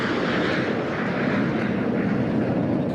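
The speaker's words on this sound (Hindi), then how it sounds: "सूर्य किरण ने एरोबेटिक में ग्लोब मास्टर विमान के साथ करतब दिखाया।" Jet aircraft roar at an Indian Air Force Day air show at Hindon airbase, where the Surya Kiran aerobatic team flew with a Globemaster transport; a loud, steady broadband rush with no talk.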